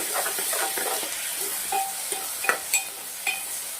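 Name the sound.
stirring capsicum and tomatoes in a pan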